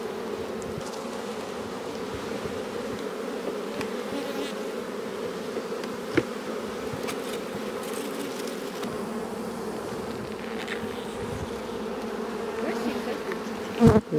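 Honeybees drone steadily around a small but booming 2021 swarm colony in a nucleus hive at an apiary in April, a dense continuous buzz close by with a few louder passes and brief knocks.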